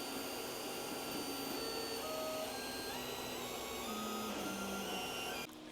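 An Elegoo Orangestorm Giga 3D printer prints a large model stand with a steady mechanical hum and whirring stepper-motor tones that shift pitch as the head moves. The sound is faint and continuous, then cuts off abruptly near the end.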